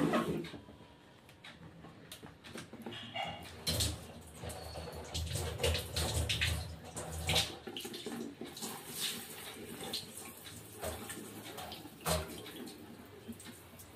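Tap water runs with a soft, uneven splashing that surges in the middle and eases off, heard faintly at close range with a few light knocks and no clear talk.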